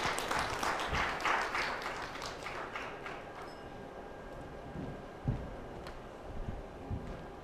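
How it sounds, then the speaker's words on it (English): An audience at a tech startup venture day event in New Delhi claps, starting as a dense burst of applause that thins and fades into scattered claps and low room noise. "Round of applause to Smile."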